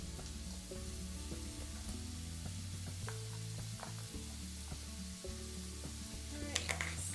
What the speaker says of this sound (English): Some good sizzle we got there.